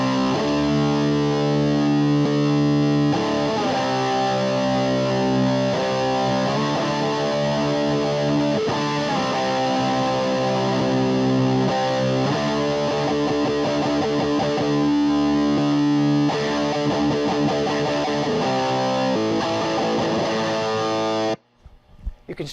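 Bass guitar driven through a Ninurta overdrive/distortion pedal, playing a continuous gritty, saturated riff with sustained fuzzy notes for about twenty seconds, loud and close, ending abruptly with a brief quiet tail.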